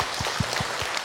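Audience applause at an Indonesian talk event, a steady wash of many hands clapping, moderately loud, with a few low thumps under it and no speech.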